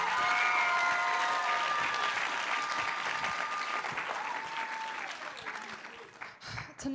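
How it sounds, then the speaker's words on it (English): A school talent evening audience applauds a performer and the student contestants, a steady wash of clapping and crowd noise that holds level and slowly thins toward the end, with faint tonal sounds and a voice creeping in at the close. "Let's give another round of applause to Reinhard and then also to our wonderful contestants tonight"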